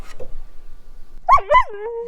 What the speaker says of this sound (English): Never heard him howl before.